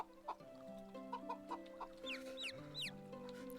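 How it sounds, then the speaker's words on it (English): Chickens in the farming game Medieval Dynasty cluck in short, repeated bursts, with a few higher squawking calls near the end, heard alone with no talk. "Hi baby chickens!"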